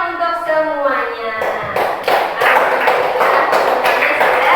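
A classroom group claps together, the sharp hand claps starting about halfway through after a stretch of sustained tonal sound, then continuing as several loud, closely spaced bursts.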